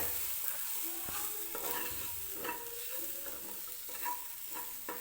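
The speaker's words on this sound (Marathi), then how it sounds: "मसाला व्यवस्थित परतून घ्यायचा आहे" Masala for potato kurma frying in a pan, a continuous close sizzle with repeated scraping strokes of a spoon stirring the spices, steady and moderately loud, no voices.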